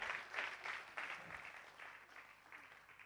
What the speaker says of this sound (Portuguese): Um aplauso grande para todos os nominados